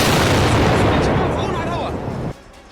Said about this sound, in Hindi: लाइव एंकरिंग के दौरान ऐसा धमाका कि कैमरा छोड़कर भागना पड़ा।